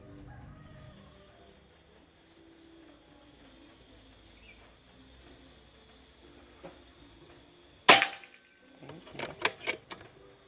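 A sharp, loud crack of a PCP air rifle shot, a custom full-CNC Gen 5 Pajero-type airgun, stands out from quiet background noise, followed by a cluster of smaller clicks and rattles.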